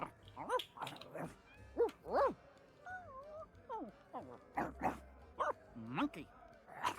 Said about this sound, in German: Der Hund will uns den Knochen nicht geben.